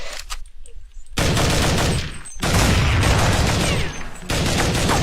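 Sustained bursts of rapid automatic gunfire in a team bomb-site shooter game, two long loud volleys separated by short quiet gaps, close and harsh with no talking.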